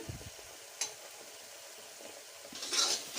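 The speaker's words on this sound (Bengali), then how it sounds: "এবার একটু নাড়াচাড়া করে নিচ্ছি" Onion paste fries in a kadai while being stirred, a soft sizzle with a scrape of the spoon and a louder hissing stir near the end, quiet and close, without speech.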